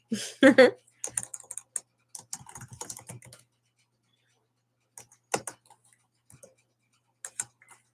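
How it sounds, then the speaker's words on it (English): Bursts of computer keyboard typing, quick clattering keystrokes in short clusters separated by pauses, with a brief voice sound at the start. "I'm typing."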